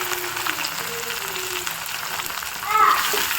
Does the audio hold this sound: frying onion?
yes